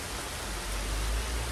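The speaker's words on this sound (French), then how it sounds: "Oh là là, il pleut." Rain falls steadily in a dense, even hiss that holds at moderate level throughout, with no voices.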